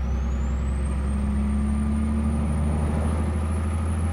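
Original engine of a VW Titan Fuscão truck with extended chassis, in-game in Euro Truck Simulator 2: a steady low diesel drone holds under a rising whine, continuous and loud throughout with no talk.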